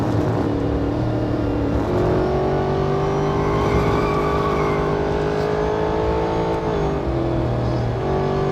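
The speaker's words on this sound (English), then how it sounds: "let's step on it and check out that engine sound as we push towards the top rev speed." An Aston Martin Vantage races in Real Racing 3, its engine droning loud and steady as the revs climb and shift through gears, with no voices.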